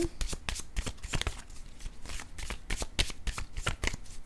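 A deck of oracle cards being shuffled by hand, a steady run of quick, crisp riffling flicks, close and alone without talk.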